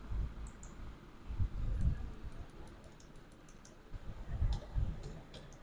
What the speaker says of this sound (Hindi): वाटर मार्क में यहाँ पे हम कस्टम वाटर मार्क पर क्लिक करते हैं।